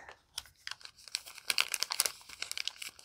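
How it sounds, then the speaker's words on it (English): Packaging crinkled and torn open by hand, a quick burst of close, irregular crackling and rustling crunches over a few seconds. "Okay, let's just open it and see. Crinkling."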